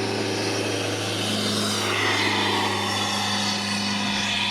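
An Aegean Airlines Airbus A320neo taxiing on an airport runway, its engines producing a loud, steady roar and whine that holds constant throughout with no break.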